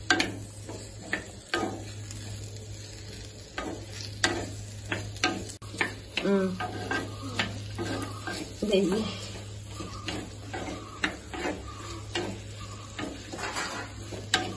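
Mango pieces for a simple homemade pickle frying in a pan of oil, a steady low sizzle under repeated clinks and scrapes of a stirring spoon against the pan throughout.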